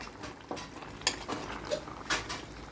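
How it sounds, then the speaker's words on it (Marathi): A spoon scrapes and clinks against a pan while vegetable curry with fried onion is stirred, several close metallic taps and scrapes over a soft sizzling bed, fairly quiet. "तर आता भाजीला छान असं फिरवून घ्या"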